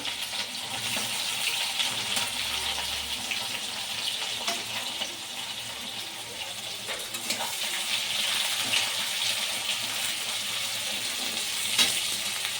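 Chopped onions and tomato with cumin frying in a pan for a chicken dish, a moderate steady sizzle with occasional stirring scrapes and some watery bubbling.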